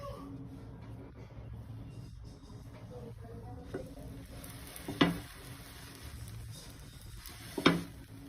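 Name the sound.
bread slice sizzling on an oiled griddle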